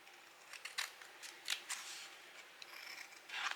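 Scissors cutting through card paper, a series of crisp close snips and rustling cuts in quick irregular succession, fairly faint and without speech.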